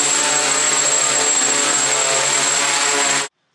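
A DJI Naza-controlled drone's propellers whine loudly and steadily up close as it lands, with a sustained high tone, then cut out abruptly to silence.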